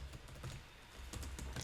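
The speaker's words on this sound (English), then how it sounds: "you always want to be looking where you're typing" Rapid keystrokes on a computer keyboard while writing a VB.NET program, a steady patter of soft clicks close to the mic, quiet and alone with no talk.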